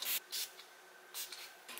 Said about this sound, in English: It's time to use this Make It Last spray all over my face.